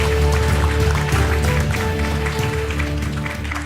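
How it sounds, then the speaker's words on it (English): Crowd applause at an international awards presentation ceremony, a steady wash of many clapping hands held at an even level, with a sustained musical tone running beneath it. "Please give her a big round of applause, ladies and gentlemen."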